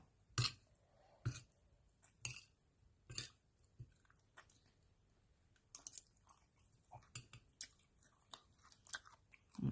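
Close, quiet chewing of pork meatballs with rice, with distinct wet crunchy bites at irregular intervals and softer mouth sounds between, no talking.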